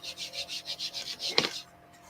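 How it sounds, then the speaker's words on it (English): Light hand sanding of a 10-inch round wood sign with 220 grit sandpaper, barely any pressure: about nine soft, rhythmic rubbing strokes, close and quiet, ending in a small knock before fading to near silence. "So I have some 220 grit sandpaper. I'm just going to lightly like hardly any pressure."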